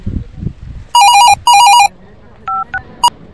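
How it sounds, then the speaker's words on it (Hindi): A telephone rings with an electronic ringtone: two sustained warbling bursts, then a few shorter beeps, loud and close over faint background noise. "फोन किसका है?"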